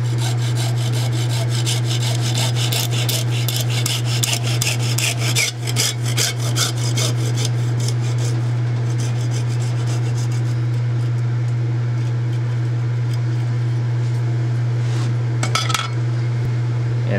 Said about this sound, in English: I'll put this cap in the vise and cut it the